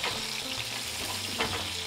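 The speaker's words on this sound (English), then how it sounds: "I'm gonna add my thyme, which is gonna spark and make some noise here" Fresh thyme sizzles and spits in hot brown butter in a pan while a ribeye steak is basted, a steady close crackling hiss with a brief louder pop near the end.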